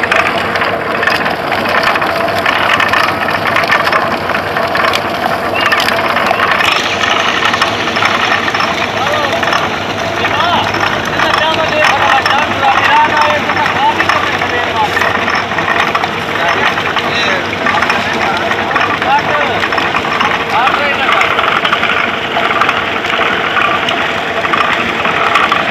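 A tractor engine driving a sugarcane crusher in a Punjab village, a loud, continuous mechanical drone and rumble with someone talking throughout.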